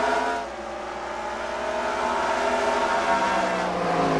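Race car engine in a racing video game at Dodge Motor Dome, exiting turn 4: a steady, loud high-pitched engine drone with harmonics sliding slowly downward, continuous throughout with no talk.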